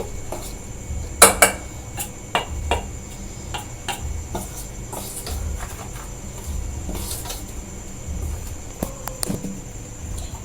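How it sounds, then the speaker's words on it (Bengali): Dry ingredients for pointed gourd pakora, including asafoetida, are mixed by hand in a bowl, giving soft scattered clinks and scrapes with a sharper tap cluster early on and faint rustling between them. "এবার এই শুকনো উপকরণগুলো আমি ভালো করে মিশিয়ে নেব"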